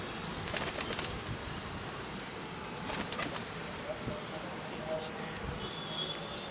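Pure import line high flyer pigeons coo softly in their loft on a rainy day, under someone talking, with a few sharp clattering bursts and flutters scattered through.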